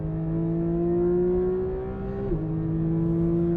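Porsche 911 GT3 RS engine on a race track, a steady loud high drone holding pitch, then a quick dip and recovery as it shifts, with no talking.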